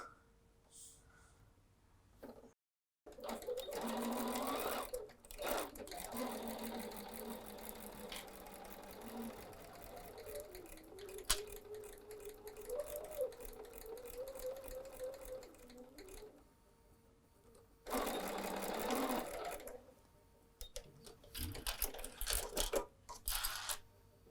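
Sewing machine stitching fabric for a stuffed Christmas ornament: a fast mechanical whir that runs in long bursts, stops briefly and starts again, loud and near, with little talk.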